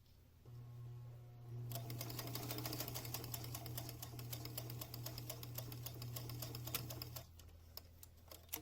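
A sewing machine runs a straight stitch along the edge of a fabric face mask nose piece, a fast, even mechanical chatter with a steady motor hum for several seconds before stopping.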